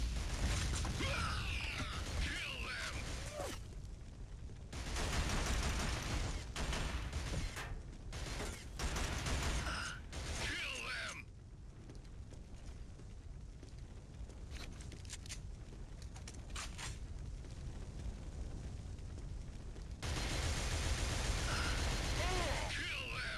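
Secondary fire from a weapon in the Killzone video game: bursts of loud, noisy blasts and mechanical clatter come in clusters, with quieter stretches between them.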